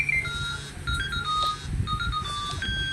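An alarm going off indoors, sounding as a repeating series of short electronic beeps and tones in a stepped pattern, moderately loud over a low background hum.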